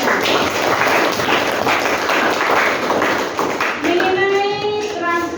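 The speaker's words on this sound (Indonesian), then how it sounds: "Sekali lagi tepuk tangan untuk kita semua." Classroom applause for everyone after a maths lesson on translation, a steady mix of clapping hands with children's voices over it, then fading as a tone rises near the end.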